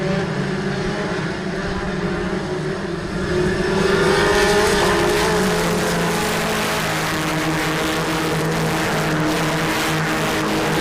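Volkswagen Polo race cars in a championship race roar past in a dense, continuous engine drone with rising revs, loud and close, with no talk over it.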